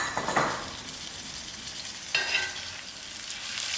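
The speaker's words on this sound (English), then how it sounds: "Allow this to fry." Ginger, garlic and dry thyme fry in a pan for a moong dhal curry, giving a soft, steady hiss that swells briefly twice, as if stirred or nudged, with no voices.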